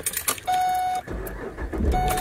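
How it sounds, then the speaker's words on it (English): A car engine cranks and starts, a short starter whir followed by a low rumbling idle, close by, with dashboard chimes sounding before and after. "Turn this car on."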